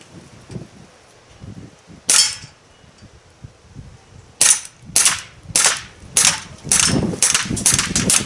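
Daisy 11A1 CO2 BB blowback pistol fired outdoors at targets, one sharp crack followed after a pause by a quick run of about seven snappy shots with metallic clinks, loud and close.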